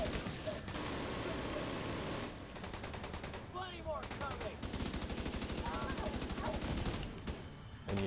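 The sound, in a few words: gunfire shooting armor off an enemy in a video game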